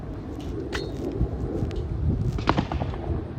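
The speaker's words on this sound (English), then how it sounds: "So here we have Stephen shooting doubles." Shotgun fire at doubles trap clay targets at an outdoor range, with a couple of sharp reports spaced a second or two apart, moderately distant over steady background noise.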